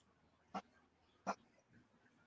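Two short, sharp barks from a dog a little way off, spaced under a second apart, with a quiet room background.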